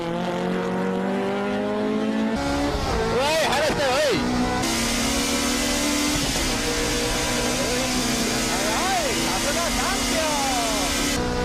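A Honda S2000 race car engine roars under throttle on track, loud and sustained, with rising and falling pitch sweeps through gear changes and faint tyre noise, while a commentator talks over it.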